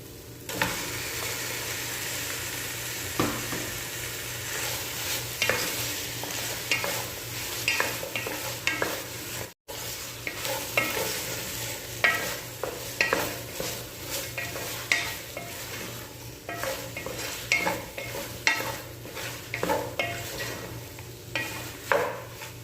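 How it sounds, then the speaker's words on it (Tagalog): Chicken pieces frying in a pan for chicken afritada, cooking with tomato paste, sizzle steadily up close while a utensil scrapes and stirs against the pan in repeated uneven strokes. "ito ang ating chicken. So ilagay na natin mga ka-recipe."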